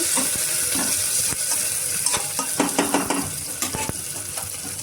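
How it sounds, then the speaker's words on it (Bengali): Four chopped onions frying in a pan, stirred with a spoon: a bright continuous sizzle under a run of close scraping and clattering strokes against the pan, with no speech. "পেঁয়াজটা দিয়ে দিচ্ছি। পেঁয়াজটা একটু নাড়াচাড়া করে নেব।"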